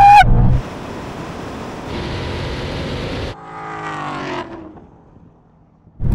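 A drag race launch between a Ford Mustang, a Chevrolet Camaro ZL1 and a Dodge Challenger Hellcat Redeye: a loud engine roar and rushing noise holds steady, a second engine note climbs through its gears, and then the sound fades out into quiet.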